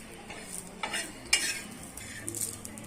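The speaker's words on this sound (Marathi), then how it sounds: "खोबरं आपल्याला मीडियम गॅसवर भाजायचं आहे कारण खोबरं लगेच भाजतं फुल गॅसवर ते करपू शकतं" Coconut dry-roasting in a pan over a medium gas flame, giving soft scraping and stirring with a faint sizzle and a few brief louder clinks, fairly quiet throughout.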